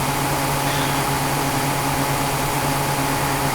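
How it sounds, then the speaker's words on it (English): A car engine runs loudly and steadily, a continuous low hum with a broad noisy roar over it, unchanging throughout with no talk. "Car engine's a little loud."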